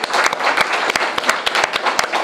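Live studio audience applauding a talk-show set, a dense steady patter of many hands with a few sharper nearby claps standing out, loud and continuous without any voices.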